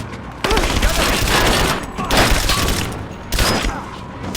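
Dense bursts of gunfire in the video game Rise of the Tomb Raider come in loud, close rapid volleys with booming impacts, and game music or voices sit underneath.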